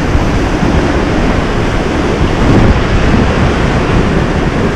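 A swollen river rushing after heavy rain near Lazarevskoye in February, a loud, dense and continuous roar of churning water that holds steady from start to finish, with no talk.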